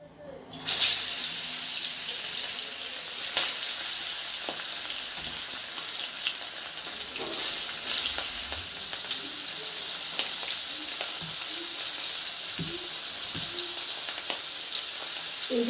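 Large, soft-fleshed sea fish with a single central bone sizzle in hot oil, a loud, continuous crackling fry with occasional sharper spits and pops throughout.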